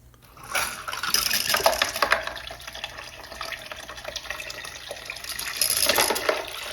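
A prototype toilet flushes a load of marbles, giving a rushing, gurgling surge of water with sharper splashes, easing off mid-way and swelling again near the end, close and without talk.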